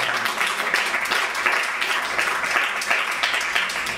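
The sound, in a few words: comedy club audience applause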